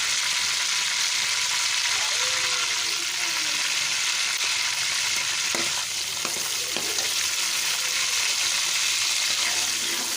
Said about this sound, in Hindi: इसको थोड़ी देर के लिए हम फ्राई कर लेंगे ताकि इसका प्यारा सा कलर आ जाए